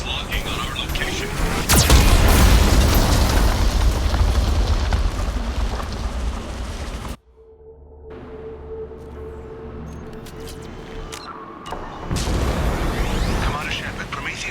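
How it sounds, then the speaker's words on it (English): Geth cannon blasts in the video game Mass Effect Legendary Edition on Xbox Series X: a loud, rumbling explosive roar that cuts off abruptly midway, then a quieter stretch of low hum and scattered crackles before heavy rumbling resumes. "Warning, Geth cannon is locking on our location."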